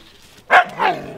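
A dog outdoors in a forest gives a single sharp bark followed by a shorter second yelp, close and loud against quiet surroundings.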